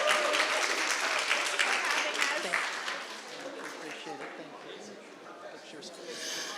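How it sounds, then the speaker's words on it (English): A council-meeting audience gives a big round of applause for Southwood Middle School: dense, steady clapping that is loud at first and then eases to a lower, sustained patter. "another big round of applause for Southwood Middle School"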